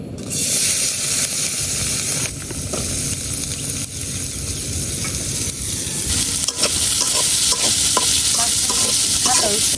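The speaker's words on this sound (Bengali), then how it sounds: "এখন এই মাছ ভাজার তেলের মধ্যে রসুন আর পেঁয়াজ গুলা ভাজে নিলাম।" Garlic and onion frying in leftover oil from frying fish, a loud, dense, continuous sizzle and hiss close up, with faint stirring clicks throughout and no talking.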